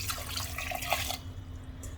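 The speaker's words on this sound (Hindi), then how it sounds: "और अब इसमें पानी ऐड कर देंगे।" Water runs and splashes into a pressure cooker holding taro root and potato pieces, a steady close pouring that stops abruptly partway through.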